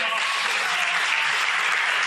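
Sustained applause from a large snooker crowd at the 2022 English Open final, loud and steady throughout with dense clapping and no pauses.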